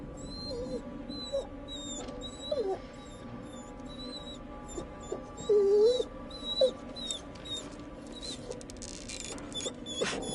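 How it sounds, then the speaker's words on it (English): Faint, high-pitched dog whimpers come and go in short bursts through a dark horror video game scene, with a few louder whines near the middle over a low ambient drone. "whimpering."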